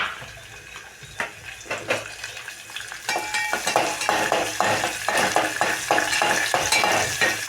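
Curry leaves crackle and sizzle in hot oil as a spoon stirs the pan, with repeated sharp scrapes and clinks against the metal growing busier and louder partway through.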